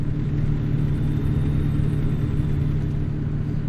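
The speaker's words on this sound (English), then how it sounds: "This is the stock engine sound that we get from it" Stock engine of an International LT truck in American Truck Simulator, a steady low diesel rumble droning evenly at cruising speed with no talking.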